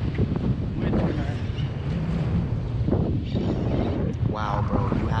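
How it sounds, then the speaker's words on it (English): Wind buffets a fishing boat out at sea, a steady rushing roar across the microphone with people talking over it. "You hear that sound? Real? The wind."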